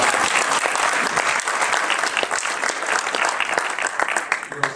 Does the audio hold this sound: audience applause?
yes